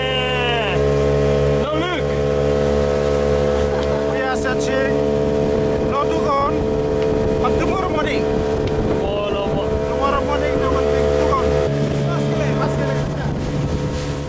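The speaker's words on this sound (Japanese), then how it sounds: "ボートに揺られること30分で" Steady boat engine drone with wind buffeting, water rushing beneath, and background music and voices layered over the motor noise, on a boat ride to Maskelyne Island, Vanuatu.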